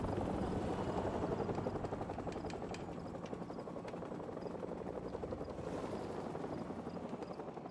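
An enemy helicopter in a military shooter video game keeps up a steady rotor thrum and chop, loud and continuous throughout, with no voices.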